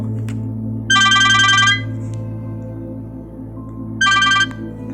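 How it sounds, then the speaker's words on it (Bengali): A telephone rings in two bursts of trilling bell tones, the first longer and the second shorter, loud and close over a steady low hum. "ঠিক এমন সময়ই ফোনটা বাজল।"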